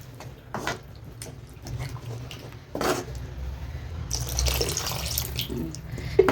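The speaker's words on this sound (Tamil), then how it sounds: "இன்னும் கொஞ்சம் தண்ணி ஊற்றிக்கிறேன்" Water poured into a mixer jar while cooking a Tamil radish egg curry, a trickling, splashing stream that builds and thickens midway, fairly near and moderately loud with no talking.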